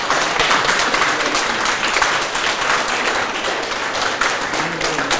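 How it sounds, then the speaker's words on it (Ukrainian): Applause for wounded Ukrainian soldiers in a Dnipropetrovsk hospital, a dense, steady patter of many hands clapping close by that continues without a break. "Це ми вам аплодуємо."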